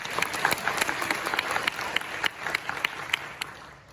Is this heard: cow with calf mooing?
no